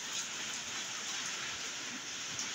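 Heavy rain pours steadily on a pigeon loft, a dense, even hiss that continues throughout at a moderate distance with no voices.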